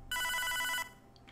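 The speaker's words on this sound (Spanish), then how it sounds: "No, teléfono" A telephone rings in the video game Hotline Miami, one loud electronic trilling burst of about three quarters of a second, followed by quiet.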